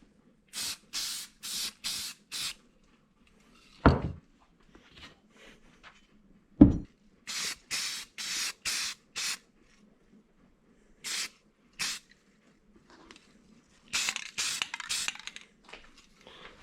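Short bursts of spray paint laying a first coat on a 24-inch pipe wrench during a restoration, hissing in repeated groups of two-second blasts with quiet gaps and a couple of sharp knocks between them.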